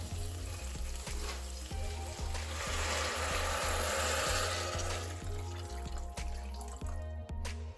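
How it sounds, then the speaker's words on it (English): Water is poured into a hot pan of spinach and rice for Greek spinach rice, a loud steady sizzle and hiss swelling mid-pour over the frying sound, then easing. "Now I'm going to put in some water."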